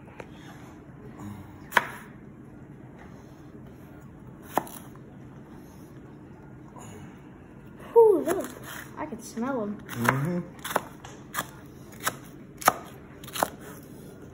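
A knife chops garlic for homemade hot sauce, giving scattered, crisp cutting knocks that bunch together later on, while people talk quietly nearby.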